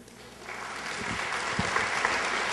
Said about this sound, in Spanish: para quien pido un fuerte aplauso de bienvenida